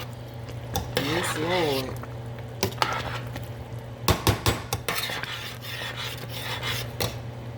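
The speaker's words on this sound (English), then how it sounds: "Okay, and stir it in." A spoon stirs seasoning into chicken and dumplings in a pot, giving scraping and clinking against the metal with several sharp knocks, while a voice briefly speaks over it.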